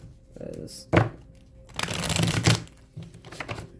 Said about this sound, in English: I'm going to shuffle these up real good